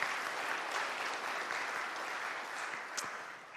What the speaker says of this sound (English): if you could just give them a round of applause right now for Joe and Cindy